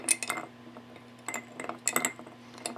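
A metal spoon stirs bourbon around a big ice sphere in a glass, giving bright, sparse clinks and rattles in irregular clusters, close and fairly quiet.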